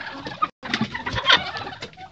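Farmyard turkeys gobble and call in short, loud bursts at close range, mixed with other fowl noise, with one brief silent gap early on.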